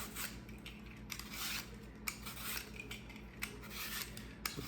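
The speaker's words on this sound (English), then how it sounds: "Continue to get these peeled and then sliced." Apples being peeled for an apple tart, a steady scraping and rasping of a blade over fruit skin with small clicks, close and continuous with no talking.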